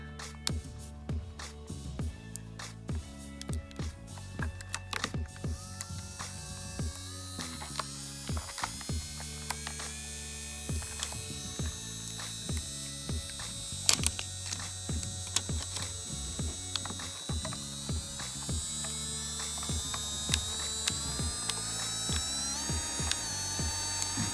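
A small electric nail drill motor whirs steadily with a fine mechanical rattle, its pitch climbing gradually as it speeds up to top speed. No voices.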